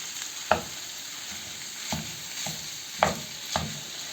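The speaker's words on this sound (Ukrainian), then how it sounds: "Додаємо 700 грам фаршу і його розмішуємо гарно." Minced meat frying with onion, bell pepper and garlic is stirred in a pan, with a few distinct spoon scrapes and knocks spaced over a low continuous sizzle, close by.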